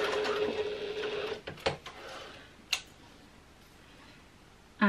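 A Janome HD9 sewing machine runs a top stitch at close range, a brief mechanical whir that stops, followed by a few scattered clicks and knocks in a quiet room.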